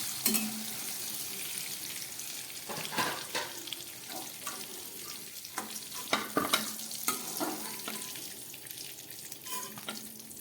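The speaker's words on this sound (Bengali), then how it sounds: "আলুগুলো পাতলা করে কেটে নিয়েছি একদম পাতলা ভাজা হয়ে গেছে" Thin potato slices fry in hot oil with a soft, steady sizzle, broken by scattered scrapes and clinks of a utensil lifting and turning them in the pan.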